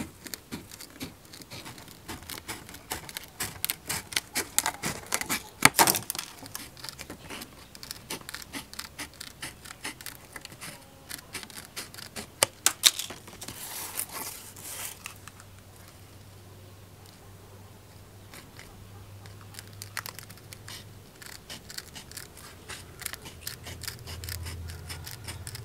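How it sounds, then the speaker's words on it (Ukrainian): Metal shears snip strips of plastic along a rim while a fishing bite alarm is being made by hand. Quiet, close, irregular snips and crinkling rustles, with a few sharper cuts and no talking. "Далі ножицями прямо по цьому бортику вирізаємо смужки пластику."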